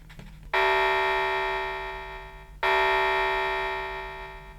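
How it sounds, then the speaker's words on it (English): An energy analyzer toy accessory sounds two gongs after its buttons are pressed, each a bright metallic tone that rings out and slowly decays, the second struck about two seconds after the first. "you should hear either 1 or 2 gong sounds, with 1 gong signifying good and 2 gongs indicating evil"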